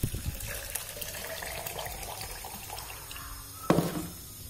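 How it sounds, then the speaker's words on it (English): Hot water pours into a glass with a faint, close trickling and splashing, ending in a brief louder clink or splash; no talking. "I put hot water in glass."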